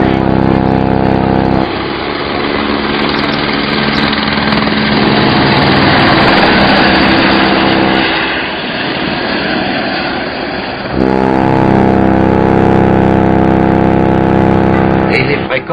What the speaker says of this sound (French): il y a l'hélico qui nous attend